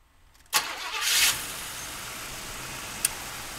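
A 1982 Cadillac Fleetwood with a fuel-injected engine cranks briefly, catches with a surge that rises for a moment, then settles into a steady, even idle that runs on close by, with one small knock near the end.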